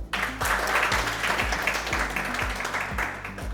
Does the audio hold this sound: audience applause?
yes